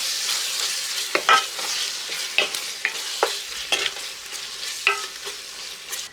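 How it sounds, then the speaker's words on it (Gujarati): Okra with achari masala is stirred in a sizzling frying pan, a steady frying hiss broken by a dozen or so quick spatula scrapes and taps at an uneven rhythm, close and moderately quiet with no talk. "બધાને સરસ ફેરવી દઈએ."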